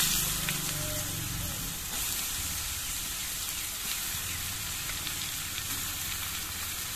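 Chopped bottle gourd dropped into hot oil with cumin, bay leaf and dried chilli, giving a loud continuous sizzle with stirring noises, close by and steady for several seconds.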